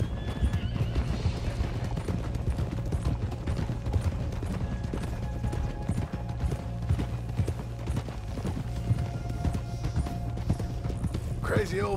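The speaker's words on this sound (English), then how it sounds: "Horse!" A horse in Red Dead Redemption 2 gallops with a steady clip-clop of hooves and lets out whinnies, layered over game music and ambient sound, with characters talking throughout.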